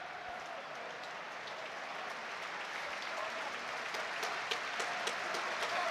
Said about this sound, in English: The Sunderland fans on 10 minutes bursting into applause for one of their own, Chris Collier.